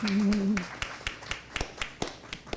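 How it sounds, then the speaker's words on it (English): Scattered clapping from an audience at a punk rockers panel discussion, a handful of sharp, uneven claps, fairly faint, following a brief tone at the start. "Of course you can clap, absolutely."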